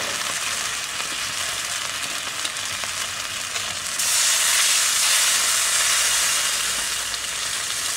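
Sherry poured into a pan of roast chicken juices sizzles and hisses steadily as it reduces, the frying noise swelling louder and brighter halfway through, close and continuous.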